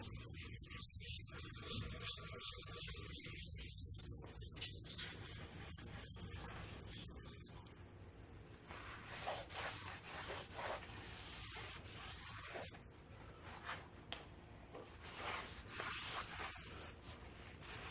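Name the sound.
wiping K.O. Lee B2060 machine parts with lighter fluid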